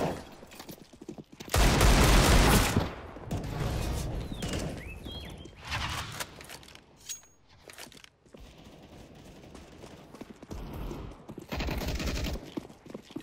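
Gunfire in the CS:GO first-person shooter game comes in loud, rapid bursts, with a heavy volley early on and another near the end. Quieter shots and shuffling movement fall between them.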